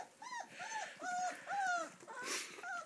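A dog whimpers and whines in a series of high, quavering cries, close and fairly quiet, repeating every half second or so.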